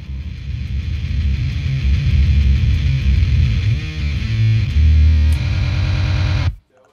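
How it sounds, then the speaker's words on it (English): Harsh, saturated noise from a Line 6 effects unit run through distortion, a dense, loud, continuous wall of sound with shifting tones that cuts off abruptly near the end. "I use the line six and I run it through distortion all the time."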